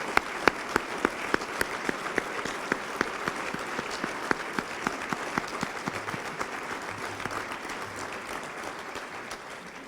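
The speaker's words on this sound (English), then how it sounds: "Let's give them a round of applause." At a chamber of commerce annual meeting, the audience applauds standing board members: a broad, steady round of clapping with a few sharp individual claps standing out, lasting the full stretch.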